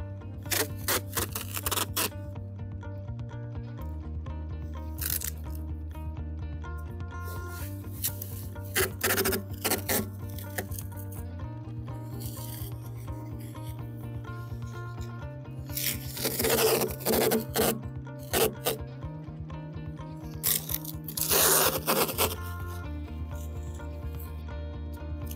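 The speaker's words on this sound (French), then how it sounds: "je vais mettre une bande de scotch ici et ici pour bien délimiter" Strips of adhesive tape being pulled off the roll and pressed down to mark out an area before painting, while building a rainwater collector; repeated rasping tears and rubbing strokes in bursts, close and fairly loud over a steady low background hum.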